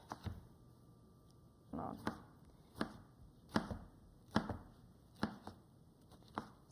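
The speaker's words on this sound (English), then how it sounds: "line them up, and give it a chop around" A knife chops through tomatoes on a cutting board, with about nine sharp, evenly spaced thuds spread across several seconds, close and fairly quiet with no voices.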